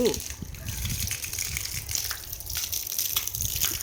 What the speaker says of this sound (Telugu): నీళ్ళు కొట్టున్నా చెట్లకి.